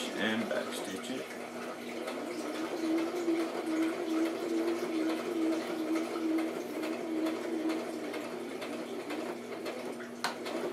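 A sewing machine runs steadily through a back-stitch near the top edge of a handmade handbag, a moderate continuous whirr with a faint tonal hum, close and alone for most of the stretch.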